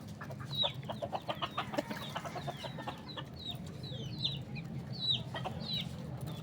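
Chickens cluck repeatedly in a steady scatter of short calls, with several birds overlapping at a moderate distance over low background hum; a rooster calling the hens.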